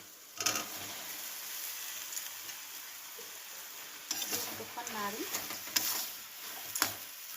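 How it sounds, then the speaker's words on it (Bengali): Spiced boiled peas and potatoes fry in a pan, giving a soft, steady sizzle with scraping stirs and a few clinks of the spoon against the pan. "একটুক্ষণ নাড়তে থাকবো।"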